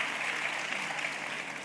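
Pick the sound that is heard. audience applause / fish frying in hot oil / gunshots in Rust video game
audience applause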